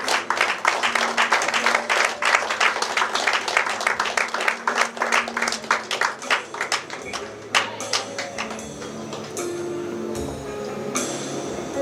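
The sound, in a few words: audience applause at awards ceremony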